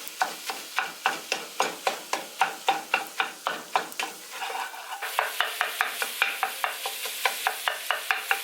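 Sausage meat browning in a pot is stirred and broken up, giving a steady rhythm of repeated scraping, sizzling strokes, about two per second, close and alone.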